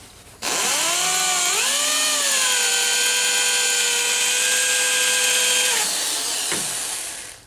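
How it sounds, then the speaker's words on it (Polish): An electric drill spins up with a rising whine while drilling a hole for a 10 mm bolt on a T-25 tractor, holds a loud steady high-pitched drone for several seconds, then slows and stops. "No to teraz wiertarką trzeba zrobić"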